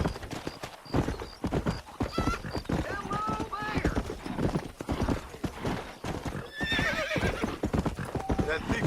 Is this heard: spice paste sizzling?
no